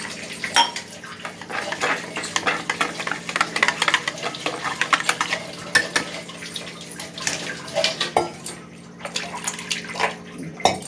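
A jaggery mixture with water is stirred in a metal pot while cooking, with continuous scraping, clinking and sloshing at close range.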